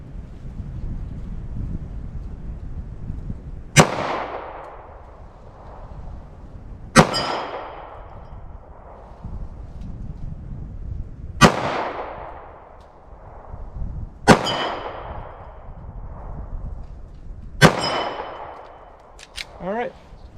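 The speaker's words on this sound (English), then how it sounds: "Let's move up to the Taurus G2C, see how that does." A Taurus G2C 9mm pistol fires Winchester Ranger T-Series 147-grain rounds into ballistic gel outdoors, five sharp, loud shots spaced a few seconds apart, each ringing out with a decaying echo over steady wind noise.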